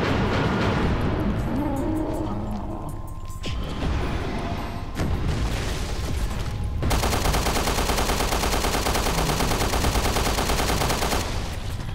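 Gunfire in the survival horror video game Resident Evil Revelations 2, loud repeated shots and blasts over dense game noise, turning into a rapid sustained burst of fire in the second half.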